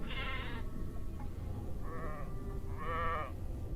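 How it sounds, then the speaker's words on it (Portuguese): Sheep bleating from a played recording, three drawn-out bleats separated by short pauses over a steady low background hum, with no talking. "Em seguida a gente pode ouvir ovelhas balindo"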